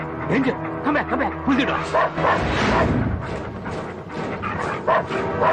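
Police dogs bark and yip in short, sharp bursts during a film scene, mixed with raised voices and loud background commotion.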